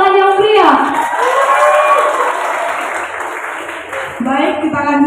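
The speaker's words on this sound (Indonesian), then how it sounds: "Boleh diberi tepuk tangan yang meriah." Audience applause at a Q&A session for PBSI ambassador candidates, a steady wash of clapping lasting several seconds with a voice speaking over it at the start and end.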